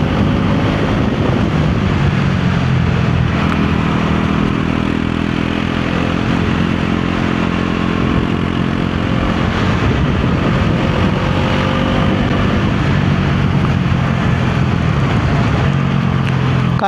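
A motorcycle travels steadily along a road on the ride home from Kathmandu toward Sindhuli, a continuous low engine drone mixed with wind buffeting the microphone, unbroken for the whole stretch.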